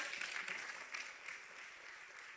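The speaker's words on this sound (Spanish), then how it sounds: "Denle un aplauso a la palabra del Señor" Congregation applauding during a church service, a steady, soft wash of many hands clapping that holds evenly from start to finish with no voices standing out.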